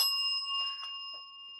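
A bell rings with a sustained metallic tone that decays slowly, close and alone with no talk over it.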